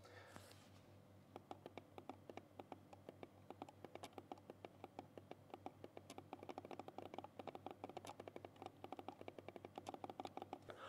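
Quiet clicks from a Robot M350 mouse with silent switches, many small taps coming in quick, uneven runs that grow denser toward the end, close up over a low steady hum.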